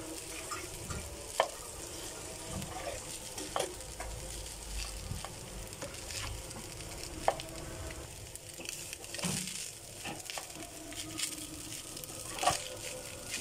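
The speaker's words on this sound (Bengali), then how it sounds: "আমি আরও কিছুক্ষণ এভাবে নাড়তে থাকবো ফ্রাইড রাইস একটু নেড়ে নেড়ে" Fried rice with spices being stirred in a pan: a soft, continuous sizzle with occasional sharp scrapes and taps of the spoon against the pan, fairly quiet and without talk.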